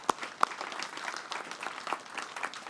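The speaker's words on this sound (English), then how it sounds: "Let's round of applause for them." A conference audience at the AAPC 2024 event applauds staff with a faint, steady patter of clapping heard from a distance, with a couple of sharper claps near the start.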